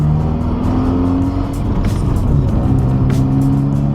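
A Hyundai Veloster Turbo engine revs loud and steady nearby, its drone holding then dipping and climbing again as the gear shift hangs, with a slight lag in the revs.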